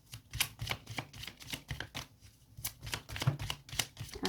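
Tarot cards are shuffled by hand, a close, rapid run of crisp riffling bursts in an uneven rhythm, with the deck briefly pausing before the shuffling resumes.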